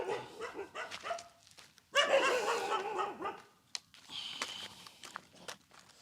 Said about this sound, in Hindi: और कुछ कुत्ते हमें जो परेशान कर रहे हैं